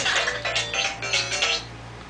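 Mobile phone ringtone going off: a short, bright electronic melody of repeated beeping tones, close and fairly loud, cutting off after about two seconds.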